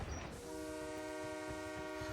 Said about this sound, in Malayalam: ആ ട്രെയിൻ വന്നു കേട്ടോ